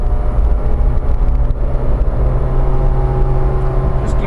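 A supercharged 1991 Subaru Sambar Dias2 AWD kei mini van accelerating, its engine drone and whine steady and loud from inside the cabin, with no talking.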